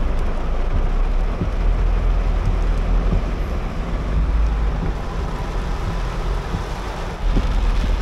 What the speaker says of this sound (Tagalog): Pag masyadong malakas ang ulan, bumawi yung ulan